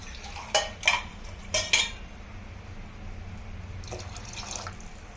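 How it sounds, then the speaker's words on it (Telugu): Water is poured into a cooking pot for chicken pulao. A few sharp metallic clinks of utensils come first, followed by a soft, fairly faint pouring rush near the end, with no talking. "నేనైతే ఇక్కడ రెండున్నర గ్లాస్ వాటర్ యాడ్ చేస్తున్నాను"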